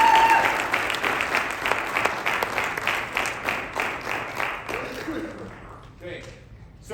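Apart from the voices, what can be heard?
applause for signing players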